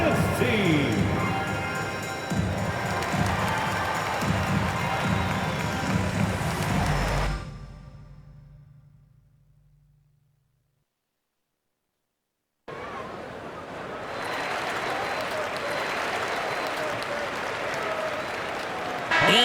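A basketball arena crowd at an NBA Finals game 7 between Seattle and Chicago roars and applauds for the dance team, a broad wash of noise that fades into silence, then returns loud and sustained.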